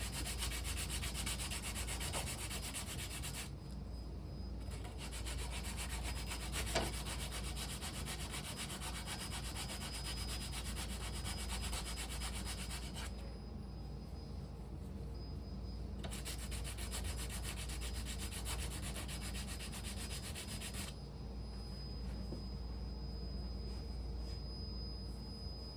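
A wooden piece sanded by hand in steady, continuous back-and-forth strokes, a close rasping scrape that runs throughout with brief changes in texture, and no talking.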